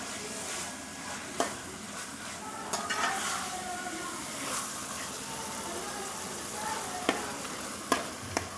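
Homemade minced meat keema sizzles steadily in a pan, with occasional scraping stirs and sharp clinks of a spoon against the metal over a constant frying hiss.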